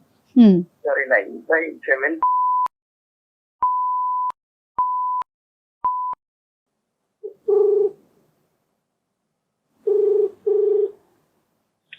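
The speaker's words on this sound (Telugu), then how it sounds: "ఒకసారి ఫోన్ ఇస్తారా? నేను కాల్ చేస్తాను." A phone call is placed: a brief voice at the start, then a quick run of dial tones, four short steady beeps, and two separated pairs of ringing tones in a quiet room.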